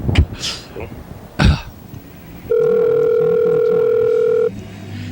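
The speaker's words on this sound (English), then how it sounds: "I'm calling Freddie the producer to find out how production is going" A telephone line tone from an outgoing call sounds as a steady, loud electronic tone held for about two seconds, after a few throat-clearing noises and coughs.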